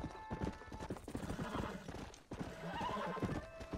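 In the Red Dead Redemption video game, a horse clops along with rhythmic hoofbeats and lets out a whinny, close and fairly quiet, with faint voice behind.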